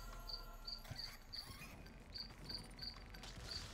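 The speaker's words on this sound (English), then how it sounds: "I hear crickets for some reason, and they're not in my house." Crickets chirp in short, regular bursts within a video game, faint and steady against a low background hum, with no talk.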